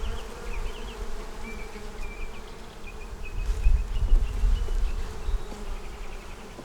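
Honey bees hum steadily inside a honey-bound hive, a dense close buzz that swells slightly in the middle, with a few higher whining passes over the drone.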